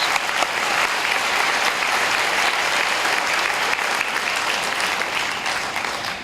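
A conference audience at a world forum on stigma breaks into sustained, even applause, a thick wash of many hands clapping steadily throughout.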